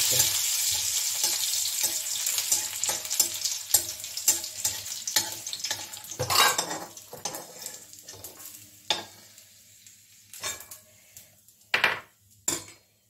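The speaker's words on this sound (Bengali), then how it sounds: "তেল দিয়ে আমি এই যে কিশমিশ আর কাজু এটাকে আমি ভেজে নিচ্ছি।" Raisins and cashews frying in a little oil, a dense steady sizzle with frequent scraping stirs and clinks of a utensil against the pan, the sizzle thinning toward the end into scattered sharp scrapes.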